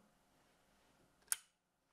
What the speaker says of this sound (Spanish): Van a escuchar el clic, yo lo voy a desconectar.